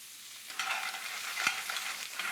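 Clams sauté in butter in a pan, giving a steady bright sizzle with soft stirring scrapes and one duller knock partway through, close and continuous with no talking.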